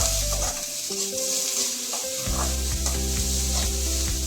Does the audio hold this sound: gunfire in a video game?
no